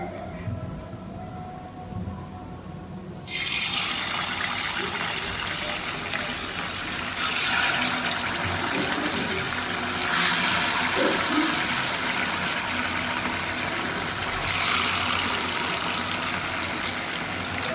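Chicken 65 pieces hit hot oil with a sudden loud hiss of sizzling that keeps surging and bubbling in waves, close and continuous after a quiet start.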